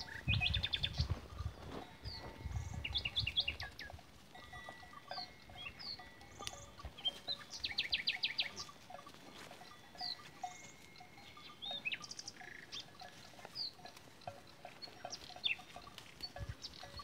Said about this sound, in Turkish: Ama yine sarı bülbül müthiş bir şekilde ötüyor.